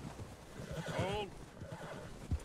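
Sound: horse neighing in video game Red Dead Redemption 2

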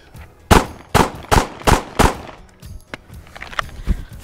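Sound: pistol firing rounds in a shooting drill

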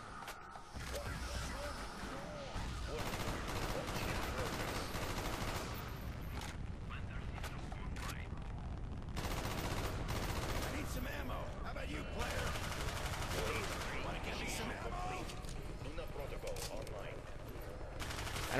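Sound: gunfire in Call of Duty Black Ops video game

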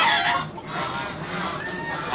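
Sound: rooster squawking on a rooftop

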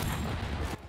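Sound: NTW-50 rifle shot in Battlefield 2042 video game

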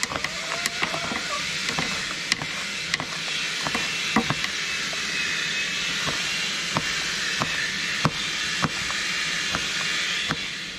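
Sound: chopping peppers with a knife for chicken sauté

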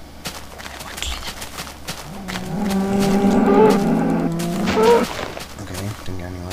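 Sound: cows mooing in video game Minecraft

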